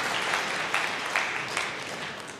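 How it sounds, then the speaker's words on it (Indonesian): A church congregation claps together in a dense, even burst of applause that holds steady throughout and tapers a little at the end. "Berikan tepuk tangan yang meriah."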